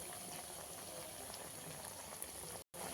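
Prawn malai curry bubbling steadily in a pan, a dense continuous boil at close range that cuts out for a brief instant near the end.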